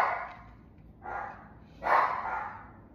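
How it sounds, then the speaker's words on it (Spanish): Household dogs barking indoors, three bursts of barks and yips at moderate distance, spaced about a second apart with quiet between. "Disculpen a mis perros pues siempre están..."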